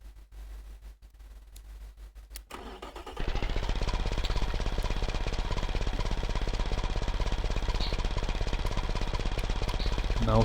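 A diesel four-cylinder engine in the BeamNG driving game idles with a rough, steady clatter, first low and uneven, then jumping to a louder, faster, constant rattle after a few seconds when the idle speed is raised.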